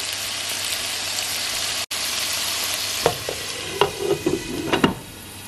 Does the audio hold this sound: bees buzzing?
no